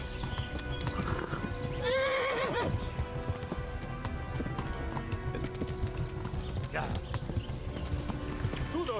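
Horse hooves clip-clop in a steady gallop while a horse neighs, with people talking over a busy, continuous soundscape from the video game Kingdom Come: Deliverance.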